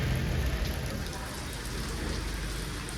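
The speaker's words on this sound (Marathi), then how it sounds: "पाऊस पडायला सुरुवात होऊन गेली आहे" Rain patters steadily on a surface close by, a dense, even hiss with a soft low rumble beneath.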